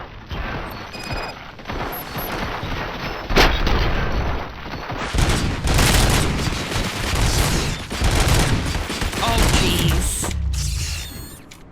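Dense gunfire fills the video game RoboCop: Rogue City, with continuous automatic bursts, heavy booms and mechanical clatter layered into a loud, close, sustained barrage with no talking.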